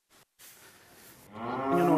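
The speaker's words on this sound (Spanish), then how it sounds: "Esta es una vaca" A Guzerat cow lets out one rising, nasal moo close by, following a brief soft rustle and quiet gaps.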